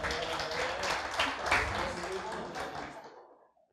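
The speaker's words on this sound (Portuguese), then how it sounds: "Uma salva de palmas para ler." A church camp audience applauding together, a dense burst of clapping that swells around the middle and then fades out to silence, with some voices mixed in.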